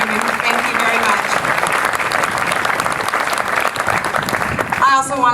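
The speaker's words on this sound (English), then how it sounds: "Another round of applause for these fine men and women" A ceremony audience at a gala opening and 9/11 commemoration gives sustained, loud applause to honored men and women, a dense wash of clapping with crowd noise that fades near the end.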